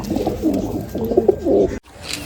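Madrasi pigeons coo in repeated soft, throaty phrases close by, with a brief drop to near silence before the cooing resumes.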